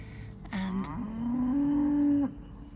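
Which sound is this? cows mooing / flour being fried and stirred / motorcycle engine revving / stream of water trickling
cows mooing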